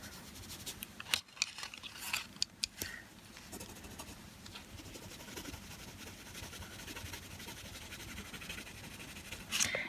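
Dollar Tree colored pencils scratching over black construction paper as color is built up in layers, close dry scribbling strokes with a few sharper ticks, no voices.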